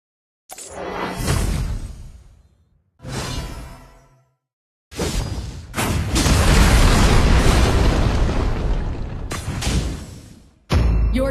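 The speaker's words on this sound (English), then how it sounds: "Your team has destroyed a tower." Arena of Valor mobile game effects as a tower is destroyed: loud booming whooshes and a long rumbling explosion roar, close and dominant, with sharp bursts at the start and end.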